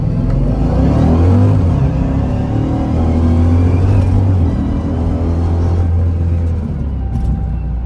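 A car fitted with a swapped Hellcat engine runs loudly and steadily close by, a deep rumbling drone with a slight surge in revs near the start and no talking.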